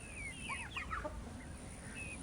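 Several hens, including Aseel chickens, cluck and squawk in quick, overlapping bursts close by, over a steady background hum, with no talking.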